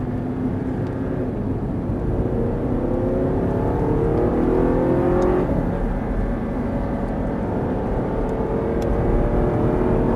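An Audi R8 sports car accelerating around Sonoma Raceway: a loud, sustained engine roar with rising pitch sweeps as it revs up through the gears, close and continuous with no voices.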